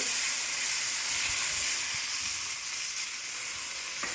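Steady broadband hiss and steam from a hot pan of chicken in pizza sauce as pasta goes in, a continuous close sizzle without talk.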